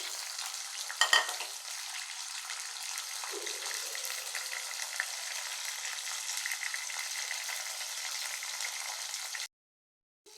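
Onion, green chili and tomato dropped into hot oil in a kadai for a fish dish: a steady, even hiss of frying with a brief clatter near the start, cutting off to near silence at the end.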